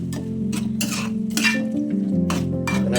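A spoon scrapes and clinks against a pot while chicken curry is stirred, giving several sharp metallic taps and scrapes over a steady low hum.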